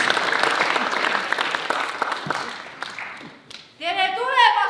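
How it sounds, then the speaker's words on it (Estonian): Audience applause at a theatre day for people with special needs in Paide, Estonia: dense, steady clapping that fills most of the clip, then thins out as a voice begins speaking near the end. "Teeme suure aplausi ja nad on meie ees."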